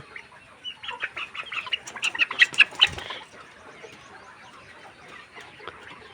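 Sick hen with swollen, closed, watery eyes clucking in a series of close, fairly loud bursts over about three seconds, then dropping to quiet background.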